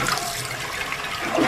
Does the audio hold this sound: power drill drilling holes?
no